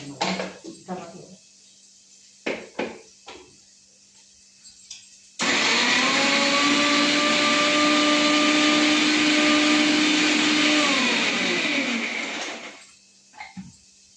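A mixer grinder blends tomatoes with a loud, whining motor hum that kicks in abruptly, holds steady for about seven seconds, then winds down; kitchen clatter and brief talk come before and after.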